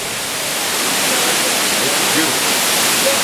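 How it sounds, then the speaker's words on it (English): Kintampo waterfalls in Ghana pour with a loud, steady roar of rushing water, close and continuous for the whole stretch with no breaks. "come to Kintampo and check out this incredible waterfalls"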